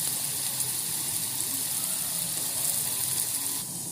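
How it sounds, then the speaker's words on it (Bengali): Potatoes frying in oil in a pan, a steady broadband sizzle that carries on evenly throughout at close range, with no voices. "এখন আলু ভাজাটা হয়ে গেছে আমি পুরোপুরি ভাজিনি"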